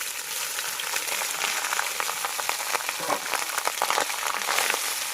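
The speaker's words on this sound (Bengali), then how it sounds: "ভাতটাকে ভেজে নিচ্ছি" Cooked rice fries in a pan with cinnamon, cardamom, bay leaf and ginger-garlic paste, giving a steady close sizzle with light crackles throughout.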